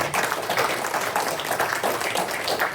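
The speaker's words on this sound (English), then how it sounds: "A round of applause for our wonderful panel." An audience at a community panel event gives the panel a steady, dense round of applause that holds at an even level throughout, with no voices on top.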